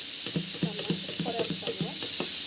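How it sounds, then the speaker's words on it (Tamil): Mustard seeds and curry leaves in hot oil give a steady, close sizzle and crackle for South Indian tempering, while a voice talks quietly throughout. "எண்ணெய் ஊற்றிட்டு கொஞ்சமாக கடுகு சேர்ப்போம், அப்புறமா கருவேப்பிலை போட்டுட்டு தாளிச்சிக்குது."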